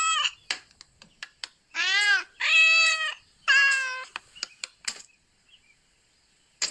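A cartoon cat from The Simpsons lets out three drawn-out meows in close succession, surrounded by scattered sharp clicks and taps, then fades into near silence.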